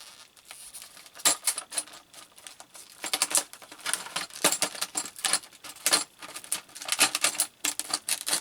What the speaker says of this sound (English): I like to cut the blister pack open.